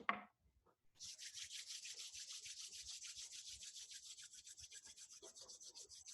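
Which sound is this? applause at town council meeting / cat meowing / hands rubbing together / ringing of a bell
hands rubbing together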